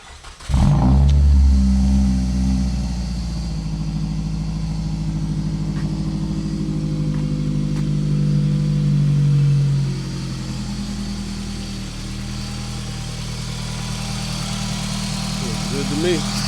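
A car engine, just fitted with new spark plugs and coil packs, cranks and catches with a loud burst and brief rev, then settles into a steady, close idle that hums on to the end.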